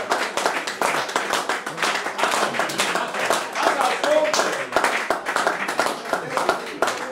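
A live audience at a Latvian event claps in a loose, uneven patter of individual hand claps, fairly near and continuous, with voices talking over it.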